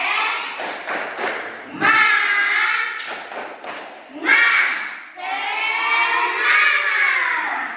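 Fifth-grade schoolchildren in an elementary classroom clap in quick rhythmic bursts while chanting and shouting together loudly, the group claps breaking between stretches of voiced cheering.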